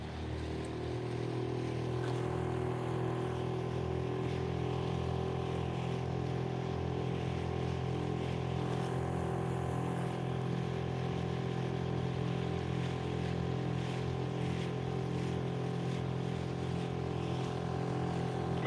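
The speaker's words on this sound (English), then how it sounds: "That way that motor is not blasting in y'all ears." Steady loud drone of a boat motor running on Lake Pontchartrain near a railroad trestle, continuous and close throughout with no talking.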